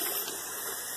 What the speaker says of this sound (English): Just filling it up with some water.